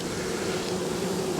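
Bees swarm around an open beehive in an Australian bee yard, making a dense, continuous buzzing drone that sounds close and fills the whole moment.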